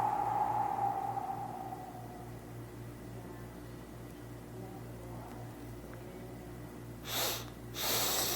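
Slow, deep breaths drawn in during a guided breathing exercise, a soft airy inhale under a steady low hum, with two brief louder breath bursts near the end.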